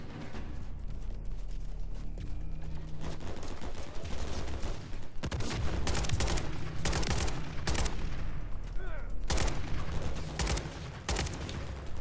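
Gunfire in the Modern Warfare III campaign: repeated bursts of shots crack out over a constant low rumble, with heavier volleys around the middle and again near the end, and no speech.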